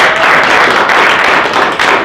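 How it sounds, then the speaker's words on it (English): Audience applause for panel participants at a lending company sales meeting, a dense, steady wash of many hands clapping close and loud throughout, with no talk over it. "And give them a round of applause."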